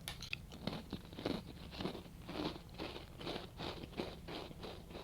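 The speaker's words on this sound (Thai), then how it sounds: "กูเคี้ยวขนม" Crunchy snack being chewed close up, a steady run of crisp bites and crackling crunches repeating roughly every half second with no talking.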